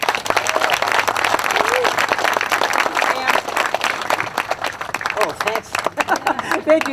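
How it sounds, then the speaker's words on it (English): Applause at a groundbreaking ceremony: a crowd claps loudly and steadily outdoors, with voices talking over the clapping as it thins out toward the end. "Everyone, round of applause here for Governor Janet Mills."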